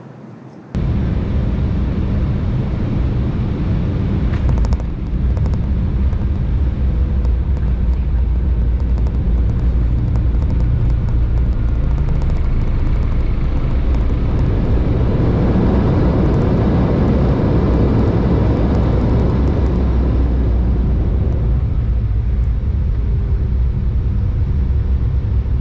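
Inside a Delta Air Lines airliner cabin during descent, a loud, steady low roar of engines and airflow fills the space, continuous and unbroken with a slight swell midway.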